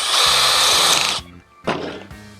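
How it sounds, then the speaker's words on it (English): A power drill whirs in two short, light bursts, the first about a second long and the second briefer, each winding down quickly. "you wanna drill this very lightly"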